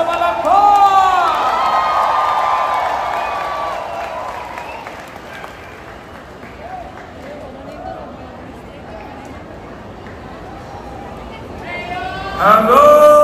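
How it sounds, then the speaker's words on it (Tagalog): A large crowd at a political rally for a party-list group bursts into sustained applause and cheering that slowly fades over many seconds, with an amplified announcer speaking at the start and again at the end. "Isang malakas na palakpak!"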